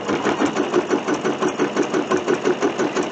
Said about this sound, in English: We'll go ahead and stitch this across, and then we'll put the star on.